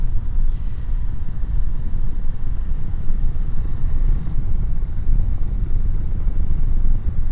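A BMW F750GS motorcycle rides along on a cold early-season outing in Sweden, its engine a loud, continuous low rumble blended with steady wind and road roar, with no speech.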